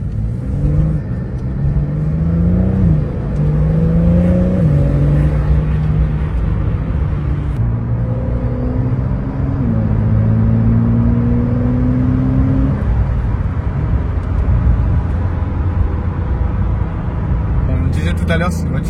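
Engine revs climb and shift through gears in rising sweeps, a Porsche 992 Carrera S, a 450-horsepower rear-wheel-drive sports car, accelerating steadily, heard from inside the cabin with a voice talking over it.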